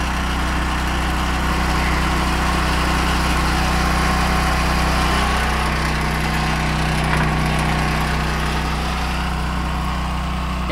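A Duromax XP10000e generator engine runs steadily at close range, a loud, constant droning hum with even vibration and no change in pitch, with no other sounds.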